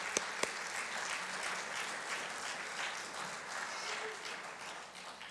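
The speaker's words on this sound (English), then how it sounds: "I think we need to clap and just say thank you." Funeral attendees applaud together in a hall, a soft, steady wash of many hands clapping at a distance, continuous throughout with little variation.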